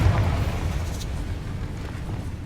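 A Confringo explosion spell cast in the Hogwarts Legacy video game, heard as a dense, rumbling burst that sustains as a steady low roar over about two seconds.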